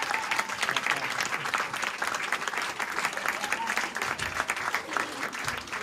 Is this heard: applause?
yes